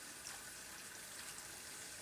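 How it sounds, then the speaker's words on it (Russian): Cold water from a kitchen tap runs steadily over blanched broccoli, a constant gentle rush that continues unbroken, then cuts off abruptly at the end, with no speech. "И остужаем холодной водой"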